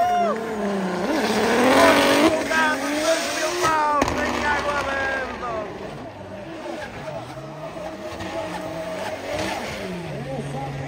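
Drift cars with over 1000 hp compete at a drift event in Spain, engines revving hard and rising in pitch while tires squeal continuously, loud and close, with voices mixed under the noise.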